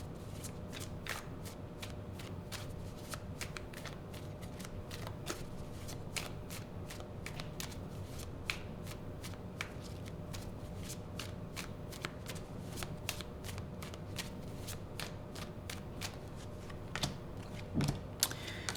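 Tarot cards are shuffled close by in a long run of quick, crisp riffling snaps and soft slides, loud and repetitive with a few brief pauses and no voices.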